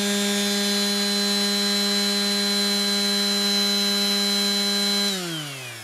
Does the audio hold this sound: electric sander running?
yes